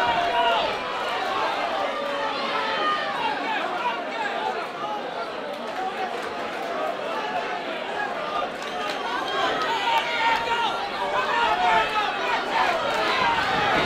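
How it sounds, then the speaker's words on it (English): A crowd at a white collar boxing fight in London, a dense roar of cheering and shouting voices that holds steady and swells slightly toward the end. "Listen to the crowd."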